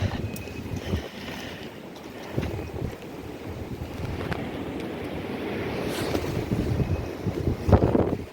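Strong wind buffets the microphone continuously while plowing a garden plot with a Zubr walk-behind tractor, a rough rumbling roar with gusts swelling and easing, no voices.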